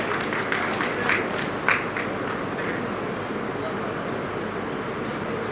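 An audience at the 101st birth anniversary celebration of Thakur Bir Singh in Bhiwani gives steady applause, a dense wash of clapping with a few sharper claps standing out early on.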